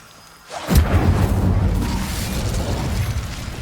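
The Incendio fire spell in Hogwarts Legacy ignites with a sudden loud whoosh and burst, followed by a sustained roaring crackle of flames that stays strong for several seconds, with no voices.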